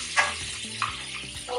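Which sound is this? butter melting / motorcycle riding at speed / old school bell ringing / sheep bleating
butter melting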